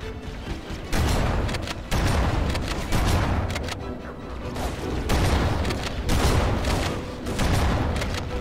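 Shotgun blasts in Halo sound in quick succession amid other gunfire, booms and explosions, loud and repeated with short gaps between heavy bursts.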